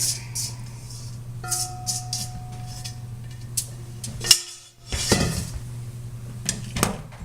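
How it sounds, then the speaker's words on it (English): Garlic parmesan redskin potatoes are scraped out of a bowl into a pan with a spatula, giving irregular clinks, knocks and scraping clatter of utensil against cookware over a low background hum. "Grab a spatula. Get everything out of the bowl."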